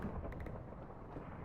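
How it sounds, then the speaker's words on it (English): Distant thunder rolling as a low, faint, steady rumble with no sharp crack, lasting briefly. "I love being able to hear that thunder"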